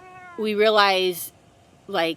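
A cat meows twice close by, a long drawn-out meow followed by a shorter one, with a person speaking quietly around them.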